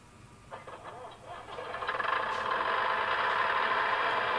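Bachmann model train with a diesel engine sound unit starting up and settling into a steady idle, a rough diesel rumble that builds over the first two seconds and then holds constant, with faint chatter at the start.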